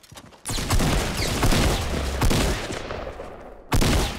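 Continuous silenced SMG fire in Fortnite, a dense rapid stream of muffled shots running almost without pause, cutting out briefly near the end before resuming.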